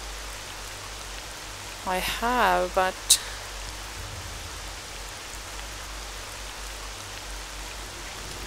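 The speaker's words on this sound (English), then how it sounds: "it's raining and the campfire's kind of shitty" Rain falls steadily in a video game, a soft even hiss running throughout, with a brief spoken phrase partway through.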